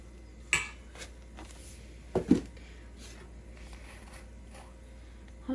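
Pizza ingredients being mixed in a bowl with a spoon, a few scattered clinks and knocks of the spoon against the bowl over a quiet background, with soft scraping between strikes.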